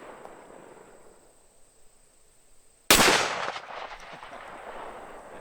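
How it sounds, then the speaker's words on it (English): A single sharp gunshot cracks out loudly near the middle of a quiet outdoor range, with a ringing decay trailing after it, fired while testing a UUQ Mini Reflex budget red dot sight. "shots."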